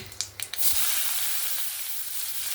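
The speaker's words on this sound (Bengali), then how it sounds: "তেল তো গরমই আছে। আমি এখানে ফোড়নে দেখুন 5 ফোড়ন নিয়েছি।" Bengali five-spice tempering (panch phoron) hitting hot oil for a catfish and eggplant curry, a few sharp crackles at the start and then a steady, close, loud sizzle that carries on alone.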